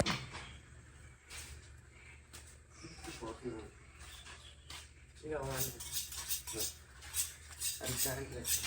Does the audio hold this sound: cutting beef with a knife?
yes